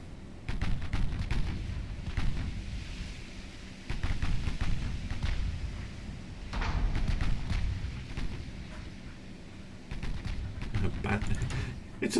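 Warship guns fire repeatedly in the Ultimate Admiral Dreadnoughts naval strategy game, heavy booming salvos rolling in loud bursts with steady rumble between volleys.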